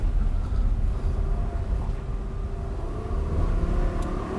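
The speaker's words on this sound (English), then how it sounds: "You can really hear it and savor the fullness of that V10." Lamborghini Huracan V10 engine in poor weather: a steady, full low rumble from the car, continuous and fairly loud, with no distinct revs and no speech over it.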